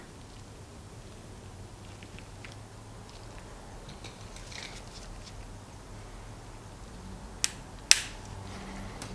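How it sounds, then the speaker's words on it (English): A metal E-clip snaps onto the fourth groove of a carburetor needle on a Yamaha Virago 1100 motorcycle. Two sharp, close clicks sound near the end, after a quiet stretch of faint handling noise. "Again, we'll install the E-clip on the 4th groove"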